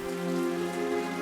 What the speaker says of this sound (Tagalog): Nung gabing yon, tunog ng ulan ang naghele sa mga bata.